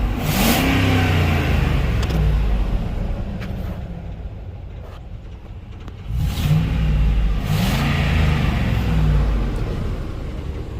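2008 Ford Econoline van engine revving and driving, a loud close mid-pitched engine roar that swells in two rising rev passes with a quieter idling stretch between them.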